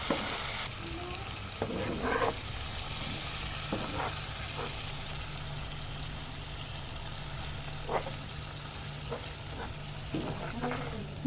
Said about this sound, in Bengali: এটাকে এখন ভাজা ভাজা করতে হবে।